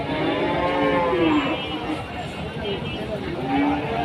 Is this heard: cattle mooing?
yes